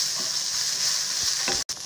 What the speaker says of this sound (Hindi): अब हम इसमें डाल देंगे काजू और मगज के बीज, इसको भी हल्का भूरा भून लेंगे।